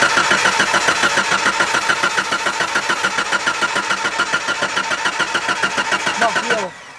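A car engine cranks over and over on the starter in a steady rapid chugging rhythm for several seconds without catching, loud and close, then cuts off abruptly near the end.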